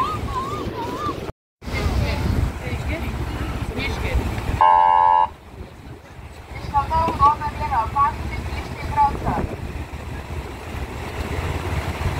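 A car arrives and leaves at a Lithuanian seaside beach: a rumbling approach mixed with wind and surf, a short horn toot, then quieter shore ambience with people talking nearby.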